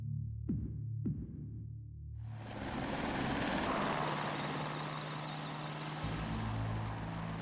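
A helicopter's throbbing engine and rotor noise builds in after two sharp knocks, then holds steady and loud with a fluttering chop.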